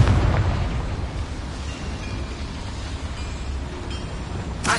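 A Confringo fire spell explosion in Hogwarts Legacy: a loud, roaring blast that trails off into a sustained rumbling wash for several seconds, ending with a brief crackle.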